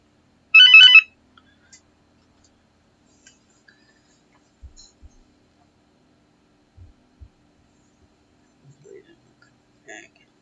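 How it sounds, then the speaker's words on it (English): A telephone rings with one short, bright electronic burst near the start, followed by mostly quiet room sound with a few faint clicks and thumps. "And the phone would ring."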